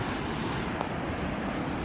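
Ocean surf at Atami Beach in El Salvador, a dense, steady wash of breaking waves with wind buffeting the microphone, continuous and fairly loud with no voices.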